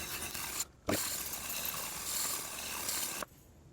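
A knife blade rasps steadily across a diamond sharpening stone in a circular pattern, a close, continuous gritty scraping with a short pause near the start.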